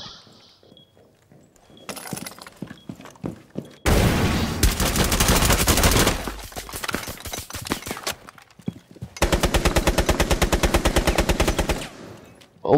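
Automatic weapon fire in a shooter video game, with repeated rapid bursts of close, loud gunshots, including a long sustained volley near the end, broken by short quieter gaps of softer game sounds.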